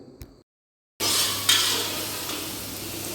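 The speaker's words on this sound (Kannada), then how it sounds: "ಈಗ ಈರುಳ್ಳಿ ಹಾಕಿ ಸ್ವಲ್ಪ ತಿರುಗಿಸಬೇಕು." Onions frying in hot oil in a pan for dal tadka, with a short stir and clink, then a pause before a sudden loud steady sizzle, close and continuous, with no voices.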